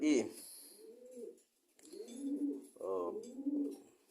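Pigeons coo in low, throaty, rolling phrases, close by and fairly soft, repeating three or four times with short pauses. A brief voice is heard at the start.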